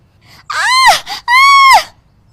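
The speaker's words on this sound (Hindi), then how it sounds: "जल्दी जल्दी चूल्हा बुझाने के चक्कर में उसके पल्लू में आग लग जाती है और वो जोर जोर से चिल्लाने लगती है" A woman screams loudly as the end of her sari catches fire in a kitchen, two long piercing cries with a brief gap between them, close and alone against silence.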